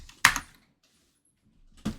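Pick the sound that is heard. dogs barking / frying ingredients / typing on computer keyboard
typing on computer keyboard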